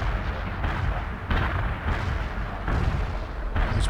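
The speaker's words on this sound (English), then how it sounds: "Artillery barrage inbound." Artillery barrage from the video game World in Conflict: dense, continuous rumbling explosions and booming blasts roll on without a break, loud and close, with several heavier impacts standing out. No one speaks.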